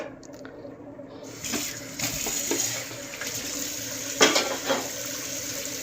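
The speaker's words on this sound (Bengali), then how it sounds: "দেখো এই ছানাটাকে একটা ছেঁকতে হবে।" Chhana curds and whey being strained at a kitchen sink, with liquid pouring and splashing steadily, punctuated by a few clinks of a pot and utensils, fairly close and without talk.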